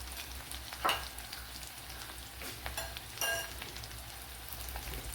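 Dried red chillies and curry leaves frying in hot oil, giving a steady close sizzle with a few sharper crackles and spatters and no talk.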